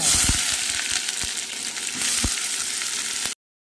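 Onions sauté in hot oil toward golden, a dense continuous sizzle close up with occasional spoon knocks, after mustard seeds, cumin and fenugreek were added for a mutton curry; the sound cuts off abruptly.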